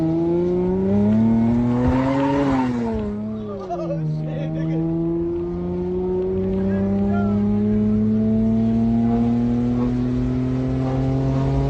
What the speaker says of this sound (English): The car in question is a first-generation Lexus IS300